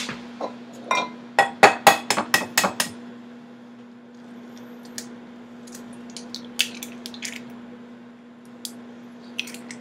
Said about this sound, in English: we're going to crack each and every one of the eggs into a bowl